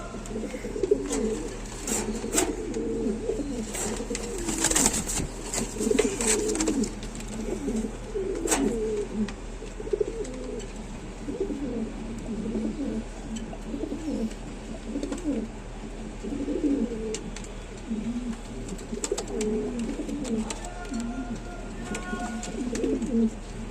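Pigeons kept as breeding pairs with eggs and chicks coo continuously in low, rolling calls close by, with occasional sharp knocks and brief faint chirps.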